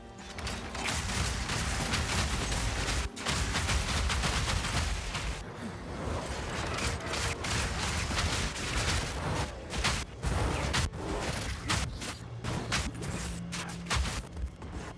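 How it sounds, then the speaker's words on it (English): Non-stop siege cascade fire in Path of Exile 2: a dense, unbroken barrage of game projectile impacts and mechanical clatter, loud and continuous throughout. "We're just gonna stand here and fire, and you're gonna see that I'm gonna non-stop fire."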